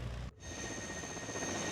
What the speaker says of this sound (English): That is the sound of a helicopter rush.